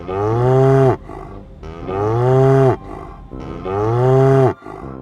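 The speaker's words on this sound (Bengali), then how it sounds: "গরু ডাকে হম্ব।" Three long, loud cow moos follow one another with short pauses between, each a deep drawn-out bellow that tails off at the end.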